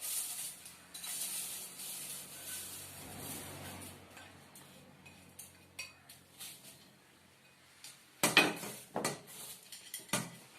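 Chopped onion, chili powder and salt are stirred together in a bowl for no-cook chaat, giving soft scraping and a run of sharp clinks of a spoon against the dish, sparse and close.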